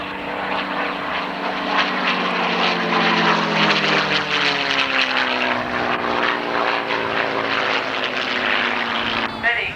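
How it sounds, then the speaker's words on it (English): A Boeing B-17 Flying Fortress, a four-engine World War II propeller bomber at an airshow, passes with a loud, sustained droning engine roar whose pitch slowly falls, and a commentator talks over it. "the Boeing Flying Fortress, the B-17, which carries the name, coming round from our right."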